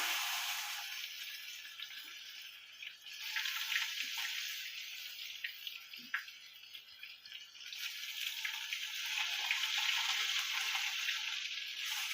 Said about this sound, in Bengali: ওই তেলের উপরে কালো জিরে আমি ফোড়ন দিয়ে দিলাম। এরপর এর মধ্যে বেগুনগুলো দিয়ে দেবো।